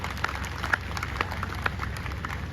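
An audience at a Rajput community mahapanchayat in Mataur village claps, with scattered hand claps forming a steady, moderate patter of applause from a seated crowd, some claps sharper and nearer than others.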